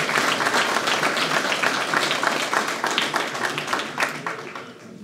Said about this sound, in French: Donc on peut les applaudir pour l'excellent travail qui est fait.